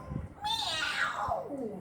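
A person imitates a cat for a class of children with a drawn-out, rising and falling meow, fairly quiet and close, with no other sound around it.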